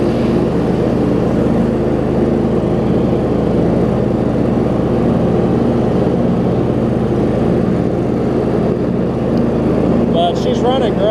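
A John Deere LX279 lawn tractor engine runs steadily and loud throughout a ride, a constant droning hum close by with no pauses.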